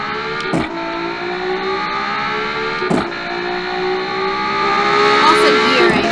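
A race car engine in the Automation game, with metal wheels and short gearing, revs hard and climbs steadily in pitch toward top speed, with brief gear-shift dips along the way, loud and close throughout.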